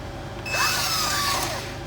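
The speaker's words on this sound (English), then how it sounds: "If we drill that hole, it'll be like it came from the factory." A power drill bores a hole through a steel I-beam bracket on a 1973 Ford F250 crew cab, a steady close whine running for nearly two seconds with shifting pitch as the bit cuts into the metal.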